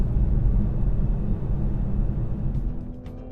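A 2020 Toyota Supra's engine drones on a test drive, a loud low cabin rumble that stays steady and gradually eases near the end, with no talking.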